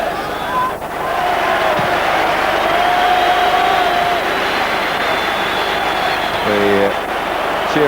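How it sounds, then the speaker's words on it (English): A large football stadium crowd cheering as Brian Robson warms up, a steady roar of voices and applause lasting throughout, with a brief whistle-like tone near the end. "Cheering for Brian Robson warming up."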